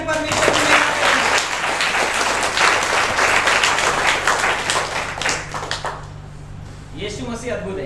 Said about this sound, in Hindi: जोरदार ताली बजा के परमेश्वर की महिमा करें